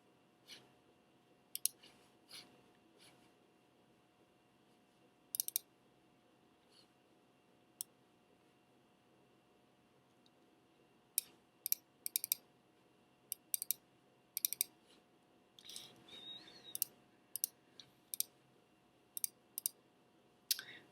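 Mouse clicks from someone working in Eagle PCB design software on a computer, a scattering of sharp, faint single and double clicks at irregular intervals over a quiet room hum.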